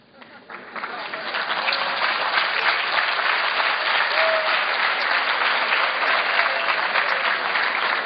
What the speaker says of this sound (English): No, please don't clap for me.